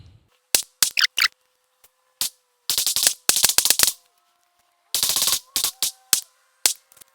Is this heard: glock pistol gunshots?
yes